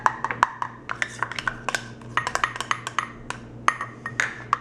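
Applesauce and almond milk being mixed in a bowl, with a utensil clinking rapidly and irregularly against the sides in a quick series of light, sharp taps, close and clear.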